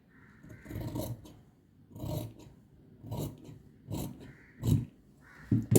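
Scissors cut through the centre of a blouse back piece of fabric, giving a run of crisp, rasping snips in a steady rhythm of about six close strokes, with no talking.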